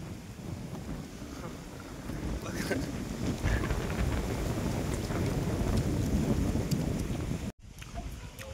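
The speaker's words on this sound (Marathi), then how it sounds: "वारं सुटलं बाहेर" Strong wind gusts outdoors ahead of rain, buffeting the microphone with a loud, rough rumble that swells and stays heavy through most of the stretch and briefly cuts out near the end. Faint voices may be mixed in.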